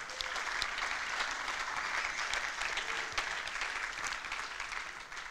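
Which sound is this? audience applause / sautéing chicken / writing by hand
audience applause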